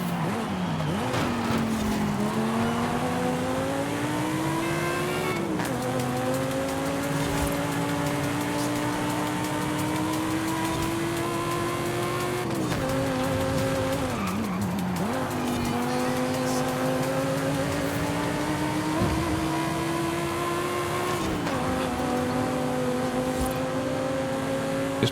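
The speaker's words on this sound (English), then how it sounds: "That little burp when the throttle kicks back in is just so nice," Car engine in Forza Horizon 5, a loud revving race-car note climbing and dropping through repeated gear shifts, with brief throttle burps as power cuts back in and occasional tire squeal, steady and close throughout.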